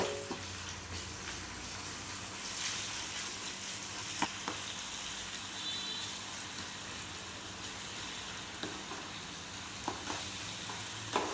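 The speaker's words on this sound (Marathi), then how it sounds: "आता ह्याच्यामध्ये आपल्याला कोथिंबीर आणि लसूणची पेस्ट टाकायची आहे आणि पण छान परतून घ्यायचं आहे" Coriander-garlic paste sizzling with browned onion in a pan, a soft continuous frying hiss with occasional spatula scrapes and taps as the mixture is stirred, fairly quiet and steady throughout.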